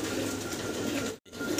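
High flyer pigeons cooing in a coop, a soft steady cooing murmur, close and moderately quiet, with one brief break midway.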